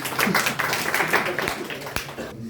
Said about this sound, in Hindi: कृष्णा जी के लिए जोरदार ताली।